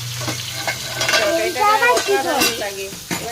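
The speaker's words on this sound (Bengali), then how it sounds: "তেলে একটু পাঁচফোড়ন দিয়ে দিলাম দিয়ে কুমড়ো এই পটলটা আর আলুটাকে দিয়ে দিলাম" Pumpkin, potato and pointed gourd frying in oil tempered with panch phoron and a dried red chilli, with steady sizzling and stirring scrapes in the pan, close and alone.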